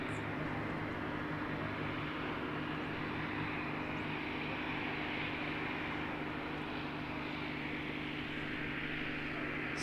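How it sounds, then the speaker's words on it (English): An airplane engine rumbles steadily at Christchurch Airport in fog as the aircraft lines up for a full-length takeoff, a constant droning hum and roar at moderate distance with no talking. "Interesting to see if they will attempt a takeoff from the usual spot here."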